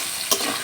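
A large amount of potatoes fry in a pan as they are stirred, making a brief burst of sizzling with a single scraping stir in the middle. The sound is close and steady, and no one talks.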